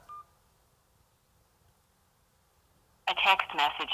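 A single short keypad beep from pressing 1 on an automated phone menu sounds at the very start. Near silence follows, then a recorded voice begins speaking.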